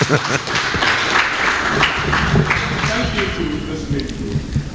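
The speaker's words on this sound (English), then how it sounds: "Give him a big round of applause" Live gathering applauding someone, clapping mixed with crowd voices and talk throughout.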